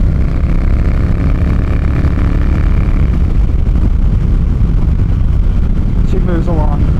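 Triumph T120 motorcycle accelerating under a gentle twist of the throttle, a loud steady engine drone with heavy wind rush throughout, close and continuous.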